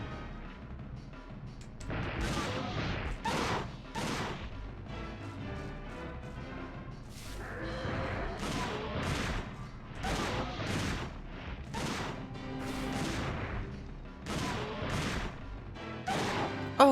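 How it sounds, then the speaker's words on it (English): Shotgun blasts from the video game Dino Crisis 2 on PS1, a steady run of loud booming shots fired in quick succession, each with a sharp crack and a short rumbling tail, with some impacts mixed in. "Oh, I love this shotgun so much."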